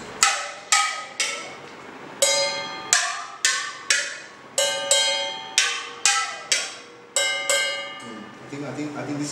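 Steel vessels holding water struck as percussion, about a dozen bright ringing metallic hits in an uneven rhythm, each decaying quickly, close and clear, with some faint rustling at the end.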